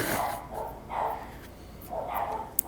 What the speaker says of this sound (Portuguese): Me desculpe aí os cachorros.